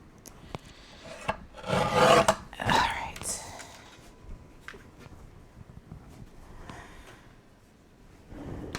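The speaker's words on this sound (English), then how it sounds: "this piece I can cut in my trimmer probably" A paper trimmer blade slicing through cardstock, heard as a couple of close rasping scrapes in the middle, with soft handling noises and quiet speech around them.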